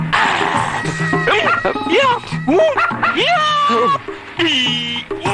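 A dog barks several times in quick yapping bursts, close and loud, with whimpering yelps between them and people talking over the top.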